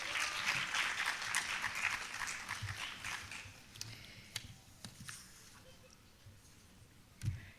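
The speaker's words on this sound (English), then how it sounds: "So well done. So clap for yourselves," Applause from the audience at a leadership forum, a dense wash of clapping that is strongest at first and then thins into scattered, softer claps, with a few sharp knocks and one louder thump near the end.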